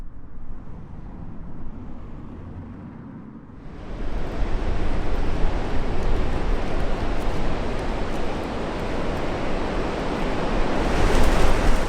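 Sea waves rolling onto the Dingle Peninsula shore in County Kerry, a steady broadband wash that starts quieter and swells to a loud, continuous surf roar with rising intensity near the end, no voices.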